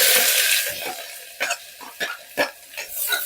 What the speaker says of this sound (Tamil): இந்த வெங்காயம் வந்து நல்ல கலர் மாறுற அளவுக்கு நல்லா வதக்கி விட்டுறலாம்.